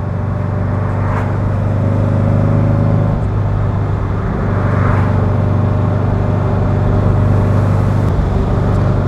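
A 1963 Porsche 356 C Cabriolet engine running while driving, a loud, steady, close engine drone with slight rises in pitch and rushing road and wind noise throughout, no talking.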